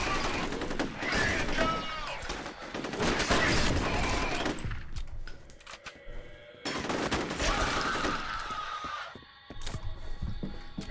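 Dense rapid gunfire from the shooter game F.E.A.R., repeated fusillades with sharp impacts and echoing bursts filling most of the stretch, briefly thinning in the middle before another heavy volley.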